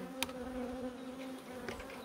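Honeybees hum steadily in an opened hive during winter preparation, with gnawed oxalic acid strips and frames full of brood and newly emerged bees. The buzzing is a soft, continuous drone heard on its own, with a brief louder swell near the start.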